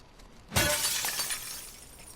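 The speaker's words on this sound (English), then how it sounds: "That smashing glass sound is so satisfying." A pane of glass smashes in The Last of Us Part II, with one sharp, loud crash followed by a bright tinkling shower of falling shards that fades out.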